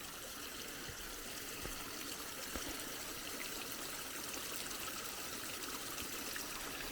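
Creek water flowing toward a distribution pond on a Mediterranean agroforestry slope: a faint, steady trickle and gentle stream wash, continuous and distant-sounding with no talk.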